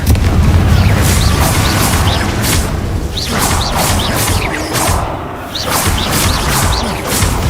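Confringo blasting spell in Hogwarts Legacy, a string of loud booming explosions with whooshing bursts and crackling debris, dense and continuous through the stretch, close and powerful with no talking.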